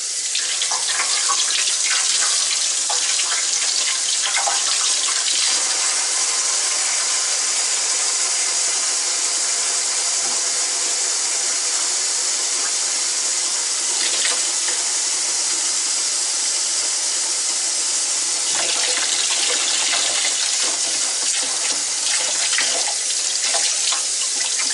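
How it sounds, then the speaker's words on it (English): Running tap water rinsing a freshly cleaned catfish fillet, a steady loud hissing stream splashing into a sink, with small shifts in the flow as the fish is moved under it. "You want to rinse your fish."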